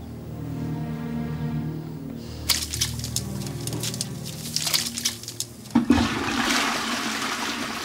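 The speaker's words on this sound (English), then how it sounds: "You just flushed evidence." A toilet flushes with a sudden rush of water that swirls and gurgles for several seconds, loud and nearby, cutting in over a low humming musical bed and settling into a hissing refill.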